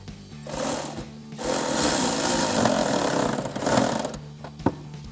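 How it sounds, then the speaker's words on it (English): A 10mm socket wrench tightens a bolt on a 2021-2023 Ford Mustang cold air intake, producing a steady, fairly loud mechanical whirring and ratcheting for most of the stretch, with a sharp knock near the end. "we can tighten it down with our 10mm socket"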